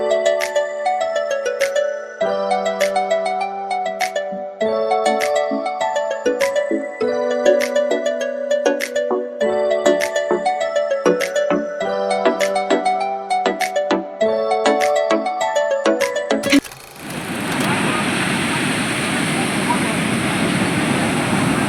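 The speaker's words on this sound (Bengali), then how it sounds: "এই সমুদ্রের শব্দ মানে অসাধারণ লাগছিল" Melodic music plays at first, then gives way to a steady, broad roar of sea waves breaking on Puri beach, close and fairly loud for the last few seconds.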